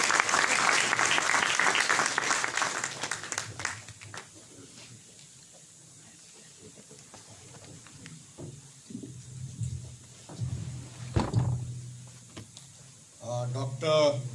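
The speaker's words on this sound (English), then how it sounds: "A big round of applause for the guest of honor, Admiral Sunil Lamba." An audience at a university ceremony claps for the guest of honor, a loud burst of applause for several seconds that fades, then scattered claps and a voice talking over the hall's quieter noise.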